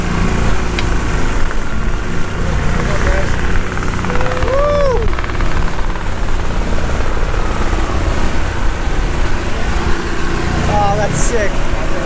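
A helicopter's rotor chops and drones steadily overhead, fairly loud and constant, with occasional whistles and voices nearby.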